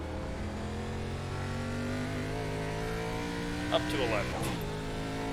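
An ARCA race car engine in iRacing holds a steady high drone that rises and falls as the car works through corners, with a brief squeal near the end, heard under a spotter's voice.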